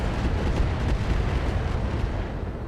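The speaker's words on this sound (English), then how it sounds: "The longbow moves up, and it fires on our Salamander." Mech weapons fire from the BattleTech mod RogueTech, a Longbow launching a missile barrage at a Salamander: a dense, continuous rumbling roar of overlapping blasts and bursts, loud and steady throughout.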